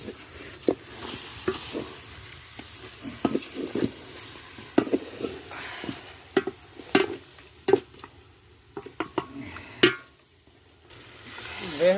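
A goat head frying with turmeric in a pan over a village fire, with soft sizzling under repeated sharp scrapes and clanks of a ladle stirring against the metal.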